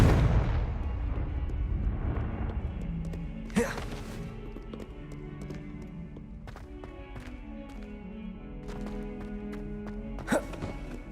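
A blasting-spell explosion in Hogwarts Legacy opens with a deep, rumbling boom that fades away. Later come two sharper blasts and some lighter thuds, set against game music.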